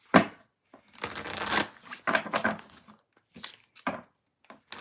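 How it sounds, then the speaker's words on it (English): Tarot cards shuffled in quick, papery bursts, several separate riffles and slides with short pauses between, close and fairly loud with no talking. "I am going to shuffle and read the chats."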